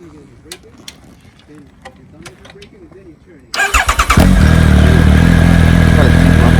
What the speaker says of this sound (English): Fire it up. Let's hear it.